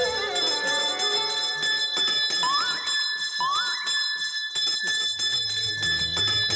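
A hand bell rings in a Marathi comedy serial scene, several bright metallic rings with a sustained tone and some quick rising tonal effects, fairly close, alongside background music.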